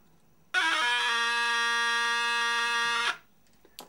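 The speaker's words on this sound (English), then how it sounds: "We've simply made a buzzer out of a small speaker." A loud, steady electronic buzz from a homemade buzzer made from a small speaker starts abruptly, holds a harsh tone for about two and a half seconds, then cuts off.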